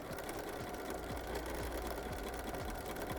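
A sewing machine stitches minky fabric for a soft baby book at slow speed. It gives a steady, quiet mechanical whir with regular needle thumps and no talking.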